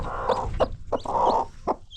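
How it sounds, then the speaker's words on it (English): Hens cluck in short, repeated bursts close by, several sharp calls spaced across a couple of seconds with faint higher peeps from chicks between them. "Imagine we have two hens here laying the eggs at the same time hatch."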